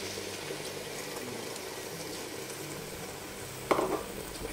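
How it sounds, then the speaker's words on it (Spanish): Fried tomato sauce poured into a pan of coquina clams sautéing over heat: a steady sizzle and stirring hiss throughout, with a brief louder splash of liquid near the end, no voices. "lo que le vamos a agregar es el tomatito frito"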